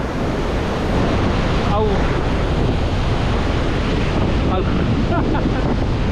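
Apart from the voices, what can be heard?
Iguazu Falls waterfall roaring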